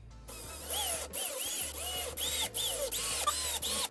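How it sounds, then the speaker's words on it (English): A power drill whirs in short repeated bursts, its pitch rising and dropping as screws are driven into a board for a trolling motor mount on a jon boat, loud and close with no talking. "And just drill them in."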